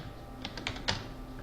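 A few soft keystrokes on a computer keyboard while a password is entered at a terminal prompt, four or so separate clicks spaced irregularly over a faint steady hum, no talk.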